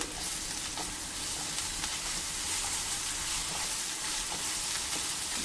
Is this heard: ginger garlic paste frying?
yes